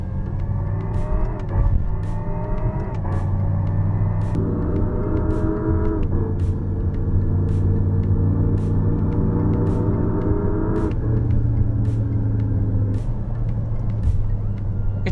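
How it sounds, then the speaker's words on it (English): A Lexus RZ 550e electric car in M mode accelerates, its drive note climbing in steps with quick simulated gear shifts, heard from inside as a steady, moderately loud hum with periodic ticks. "You can already hear this mild grunt."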